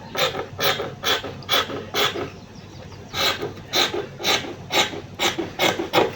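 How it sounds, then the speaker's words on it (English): Scissors snipping through dress fabric along a neckline pattern, cutting out an envelope flare dress, giving a run of close, rasping cuts in a steady, slightly uneven rhythm. "I'm going to cut out the neckline first, then before I go over to the dart"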